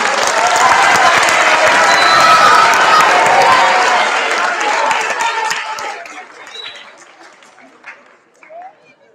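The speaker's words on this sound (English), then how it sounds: "Now you guys can cheer for yourself." Middle school students at a sixth to eighth grade spelling bee applaud and cheer loudly for themselves, a dense burst of clapping that gradually thins and dies away, leaving a few scattered claps.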